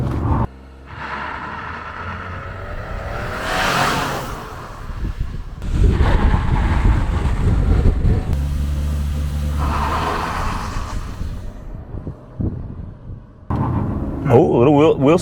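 A 2024 Chevrolet Trax RS with a 1.2-liter engine launches hard from a standstill toward 60 mph, its engine note rising loud through the run with a brief pause for a shift, while people inside talk excitedly over the noise.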